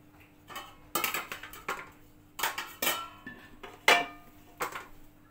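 Metal lid set onto a cooking pot of vegetable dum biryani, a few close clinks and clatters of metal cookware spread over several seconds, with no talking.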